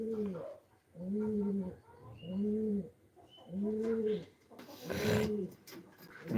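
Red checker racing pigeons coo in a steady series of five close, rounded calls, with a brief rustle or scuffle mixed into the later coos.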